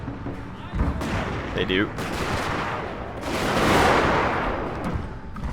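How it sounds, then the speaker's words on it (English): Wooden cannons fire in a Total War: Shogun 2 Fall of the Samurai battle: a few sharp reports early, then a long swelling rumble of volleys. A voice briefly speaks over the battle noise. "wooden cannon still firing away"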